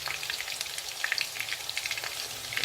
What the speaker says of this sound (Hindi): ये अभी हम चिकन जो है उसको दोबारा फ्राई कर रहे हैं